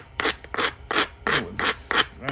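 The edge of a thick flint piece is ground during knapping, with six quick, close rasping strokes in a steady back-and-forth rhythm, each a short gritty scrape.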